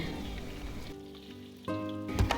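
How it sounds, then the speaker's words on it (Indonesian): Corn fritters made without flour or egg fry in hot oil, giving a soft hiss that drops away midway and then returns with a sharper crackle and spatter. "goreng bakwan jagung hingga terselesaikan"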